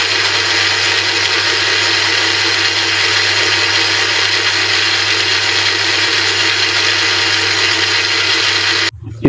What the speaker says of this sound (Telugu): ద్రాక్షను మెత్తగా జ్యూస్ పట్టుకుందాము